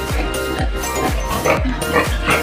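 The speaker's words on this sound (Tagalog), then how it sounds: "Ito pala mga baboy dito mga kamaster is ito yung mga anak ng mga inahing." Young pigs in a clean pen on a sow-breeding farm grunt in short, loud, close-up bursts, roughly every half second in a steady rhythm, with no talking.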